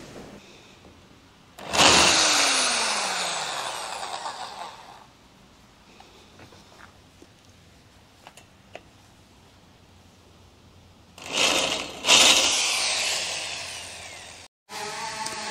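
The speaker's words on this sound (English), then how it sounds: "So I have managed to drill all of the holes through the form ply, through the frame underneath" A power drill whines loudly in two long bursts, boring through form plywood and the frame beneath, separated by a stretch of quiet with faint clicks and handling noises.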